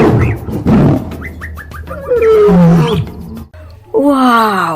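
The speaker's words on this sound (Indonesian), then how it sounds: "Wehehe, ini singa teman-teman" A toy lion gives a loud electronic roar that swells into drawn-out groaning, moaning tones, then rises into a final wailing cry, all close to the microphone and with no talking over it.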